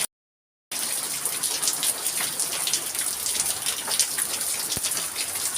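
Rain pours through broken roof gutters in a steady, close hiss and patter of drops. It begins after a brief silence and continues evenly, with no talking.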